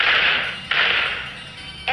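Gun sound effects: three sharp, loud, close cracks, the first two each trailing into a long hissing decay, the third just starting at the end, with no talk.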